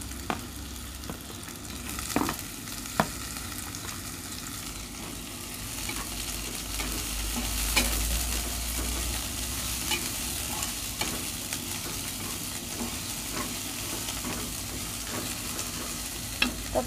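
Sliced onions sautéing in a pan until wilted, a continuous close sizzle and crackle with repeated stirring scrapes and occasional utensil taps, steady throughout with no talk.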